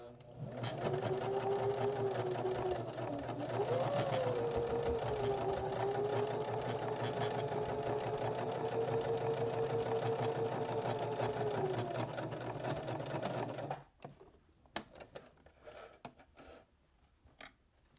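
A sewing machine stitches fabric for a drawstring bag, running loud and steady for about thirteen seconds with a faint shift in tone, then stopping abruptly, followed by a few sharp handling clicks.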